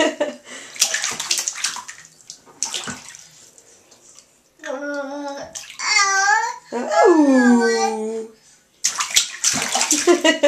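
Young child splashing water in a bathtub, with sloshes and splashes close by mixed with the child's babbling and squeals and an adult speaking.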